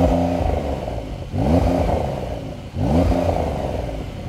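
A new turbocharged Porsche 911 flat-six engine revs loudly and close up in three rising bursts, each climbing in pitch and then dropping back, with no voices over it.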